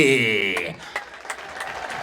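An audience at a recital of Ethiopian qene poetry breaks into scattered clapping right after a chanted, sung line, with a voice continuing over the claps.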